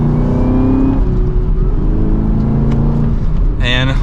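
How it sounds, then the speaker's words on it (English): Chevrolet Camaro ZL1, a 2023 model, pulls away under mild acceleration, a loud, close, steady low engine rumble with a few sharp exhaust pops near the end and a voice talking over it. "with a mild acceleration, this has so much power. And we get some pops in that exhaust."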